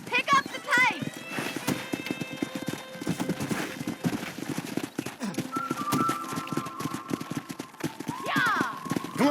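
Horse hooves clip-clopping at a fast gallop in the Red Dead Redemption video game, steady rapid beats with occasional whinnies, under a man's speech and in-game talk.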